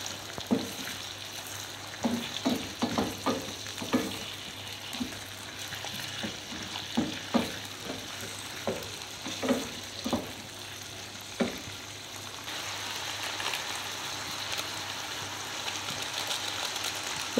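Cubed beef and half-cooked potatoes fry in a pan for oyster-sauce beef, a steady close sizzle broken by repeated clacking stirs from a utensil, with the stirring stopping near the end while the frying hiss carries on.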